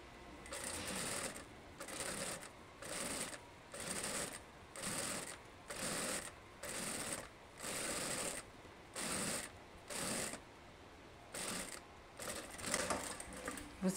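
A sewing machine stitches a skirt with a ruffled circular flounce in quiet, regular bursts of rapid mechanical whirring, about ten short runs separated by brief pauses, with no talking.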